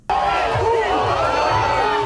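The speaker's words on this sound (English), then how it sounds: "Now the large crowds looking to keep the party going have flocked north." A large partying crowd at a Fort Lauderdale beach cheers and whoops continuously, a dense wall of mixed voices and shouts sustained throughout at steady loudness after a sudden start.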